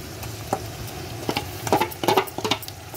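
Spice paste sizzling with onions in a pan, with a steady low fry under intermittent scraping stirs that grow busier toward the end, close and fairly loud.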